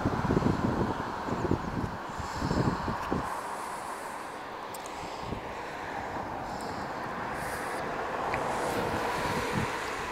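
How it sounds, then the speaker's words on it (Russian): Strong wind buffets the microphone steadily, with heavy low rumbling gusts throughout and a few louder bursts early on. "О, какой сильный ветер."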